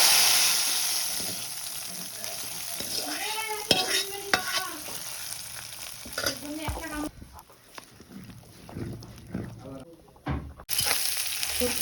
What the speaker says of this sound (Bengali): সরিষার তেল দিয়ে পেঁয়াজ রসুন ভেজে হচ্ছে আজকে খিচুড়িতে দেবো